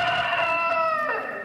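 A hen or rooster gives a short, loud, strained call with a rising, crow-like tone, close up and alone for about a second and a half.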